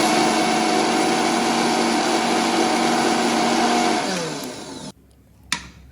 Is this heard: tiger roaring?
no